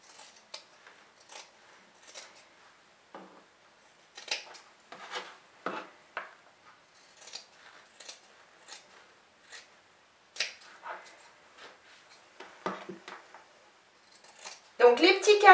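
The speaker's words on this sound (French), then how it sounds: "je vais simplement les découper" Scissors snip out the corners of fabric for a square sewn pouch, making a series of short, crisp cuts in irregular bursts, close and fairly quiet.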